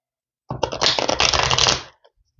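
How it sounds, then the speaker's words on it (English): A worn deck of cards being riffle-shuffled for a tarot reading: one dense, crisp burst of fluttering card noise lasting about a second and a half, close and fairly loud, then a few faint taps. "Let's do 3 shuffles, and we'll get this reading going for you guys here."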